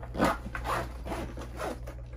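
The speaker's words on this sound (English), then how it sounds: "and that just zips up." Zipper being drawn shut on the top compartment of a blue Exalt paintball case, heard as a few close rasping pulls over a low steady hum.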